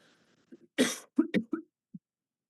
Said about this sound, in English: this cough is bad.